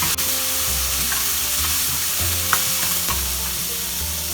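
Frozen green peas and other vegetables fry in a pan, a steady sizzle running throughout with intermittent scraping stirs and a couple of sharp utensil clicks, close and moderately loud.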